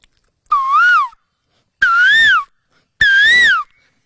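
A young person whistles an imitation of an Asian koel's call three times. Each whistle is a clear, rising-and-falling note about half a second long, with silent gaps between them.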